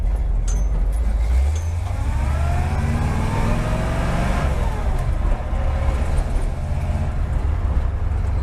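A car engine runs steadily from inside the moving vehicle, with a deep low rumble and rising, wavering tones as it revs and pulls, loud and continuous throughout with no talking.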